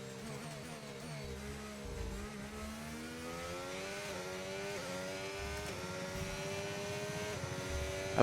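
Race car engine in the F1 25 video game, running between close walls and buildings on a street circuit, a steady harmonic whine rising and falling through gear changes, reflected and reverberant, heard alone with no talk.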